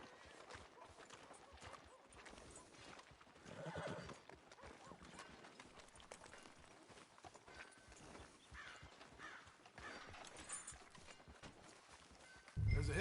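Horse hooves clip-clop at a walk with occasional neighs in a Red Dead Redemption II street scene. The hoofbeats are soft, steady and close, with faint background ambience and no clear talk.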